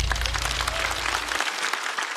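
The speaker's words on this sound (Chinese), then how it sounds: "来，掌声送给虎牙。" Dense audience applause for a comedian after a stand-up set, a loud, steady crowd clapping over a fading low hum.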